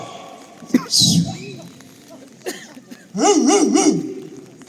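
A few short dog barks and yips, close by, with a brief whimpering whine; the sounds come in bursts separated by quiet gaps.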